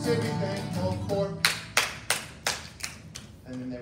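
Short bursts of clapping from a small audience follow a sung line, about eight sharp claps spaced roughly a third of a second apart after the singing.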